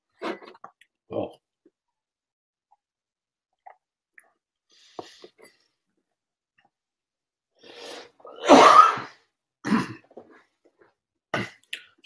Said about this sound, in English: I better sign off before I start coughing again.